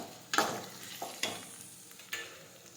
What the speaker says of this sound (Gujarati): હવે આપણે સાતળી લઈશું.